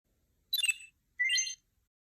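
Two short electronic beeps, the first warbling and the second a steady tone, separated by a brief pause in an otherwise silent room.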